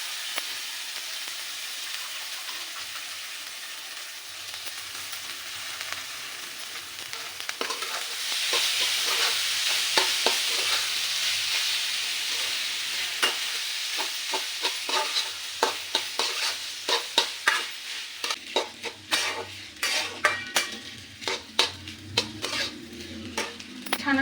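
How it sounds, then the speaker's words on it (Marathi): Grated onion stir-fried in a pan for kis kanda bhaji, with a steady sizzle under repeated scraping and clinking of a spoon against the pan that grows busier and louder toward the end. "असं परतू परतू घ्यायचा एक पाच ते सात मिनटं"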